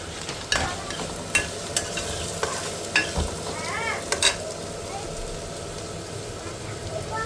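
Carrots and cabbage stir-fry in a hot pan for street-style chicken fried rice, a continuous loud sizzle broken by scraping and clanking spatula strokes at irregular intervals.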